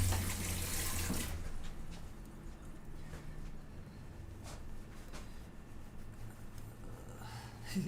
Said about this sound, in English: I rinsed it. I just need to soap it.